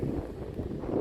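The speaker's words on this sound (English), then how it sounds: "Be a bit breezy" Wind buffeting the microphone on a windy day at Portland Bill on the Dorset coast, a brief, steady low rush of gusting noise.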